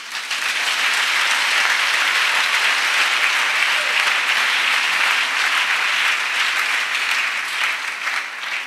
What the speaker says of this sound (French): Acclamons ça